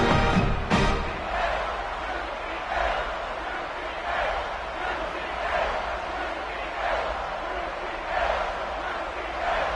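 A home stadium crowd in the College Football 27 video game keeps up a sustained roar of cheering, with rhythmic swells of chanting under a commentator's voice.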